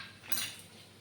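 A metal spoon gives one faint, short clink against a cooking pot as a spoonful of chili powder goes into a dish on the stove, heard alone with a soft hiss after it.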